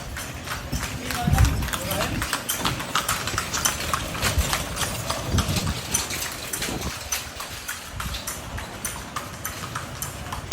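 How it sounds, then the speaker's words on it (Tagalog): Horses' hooves clip-clop along a street in Bigaa, a steady loose rhythm of hoofbeats mixed with street bustle and nearby talking. "Napapakinggan mo yung mga takbang ng mga mga kabayo."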